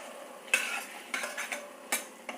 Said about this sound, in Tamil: இப்படி கத்திரிக்காய் சேர்த்து ஒரு 2-3 நிமிஷம் இது நல்லா கிளறி விட்டேன்